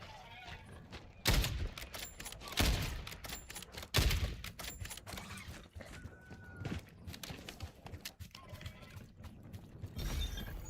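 Sniper rifle fire in Call of Duty BO7: three sharp, loud shots spaced about a second and a half apart, then scattered quieter clatter and game noise over a steady low background.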